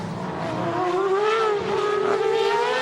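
A 2008 Superleague Formula race car screams through the Nürburgring chicane during qualifying, its high engine note climbing and dipping with gear changes, loud and alone without speech.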